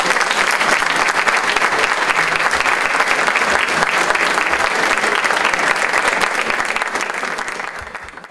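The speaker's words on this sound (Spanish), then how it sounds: "yo les pido ese fuerte aplauso para la agrupación folclórica de la tercera" Loud, sustained applause from an audience at a senior citizens' folk dance presentation, continuous close-sounding clapping that holds steady for about seven seconds before fading out at the end.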